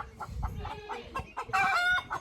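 Farm chickens cluck in short, scattered calls at moderate distance, and one bird holds a longer, drawn-out call near the end over a low rumble.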